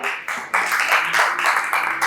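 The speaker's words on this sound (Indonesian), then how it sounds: "Nah, tepuk tangan." Classroom applause after a group presentation, a short, loud burst of many hands clapping nearby, swelling after a brief start and holding steady.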